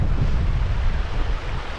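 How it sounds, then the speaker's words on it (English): Strong wind blows across an exposed hillside at Cautley Spout in the Yorkshire Dales during a wet wild camp, a loud continuous rushing roar buffeting the microphone with no pauses. "It's a lot windier than I anticipated."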